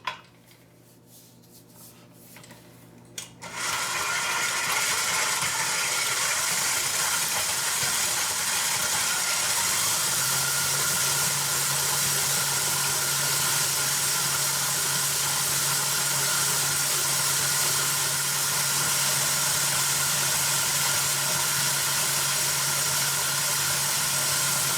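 Electric mixer beating a chocolate cherry mice mixture, switching on after a few seconds of quiet and then whirring loud and steady without pause, its motor pitch shifting slightly partway through.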